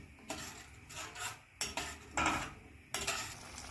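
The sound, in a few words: stirring bitter gourd curry in a pot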